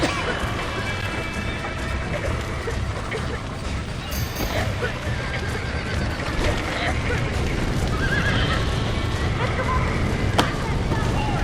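Horses whinny and hooves clop amid a busy, continuous soundscape from the video game Red Dead Redemption, with a voice talking over it.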